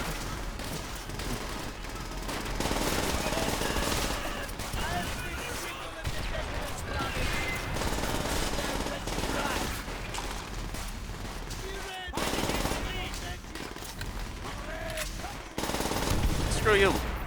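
Machine gun fire in a Call of Duty game: long bursts of rapid automatic shots rattle almost without pause over battle noise and explosions, while someone talks over the gunfire.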